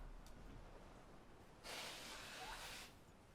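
A single forceful nose blow, a loud breathy honk-like burst lasting over a second, following quieter background noise.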